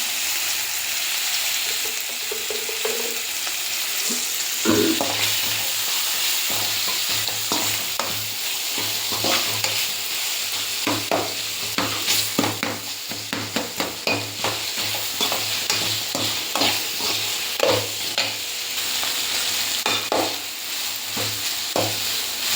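Ingredients for field bean sambar, with turmeric powder added, fry in a pan with a constant sizzle. Repeated scraping strokes of a spoon stir through it, close and rhythmic.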